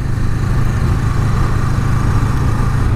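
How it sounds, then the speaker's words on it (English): A Honda Rebel 500 motorcycle ridden at a relaxed, unhurried pace: a steady, loud low engine drone with constant wind rumble, even and unbroken throughout, no talking. "let's go puttering along at a more sedate pace, a more normal pace"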